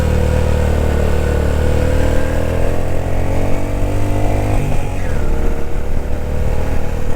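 A motorbike engine labours loudly and steadily while climbing a steep mountain road toward Pir Chinasi in Azad Kashmir, straining hard with a slight misfire, droning continuously at close range with no talking.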